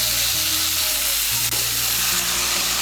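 Vegetables for dudh shukto fry in a pan with a dense, loud, continuous sizzle up close, steady throughout with a brief stirring knock midway.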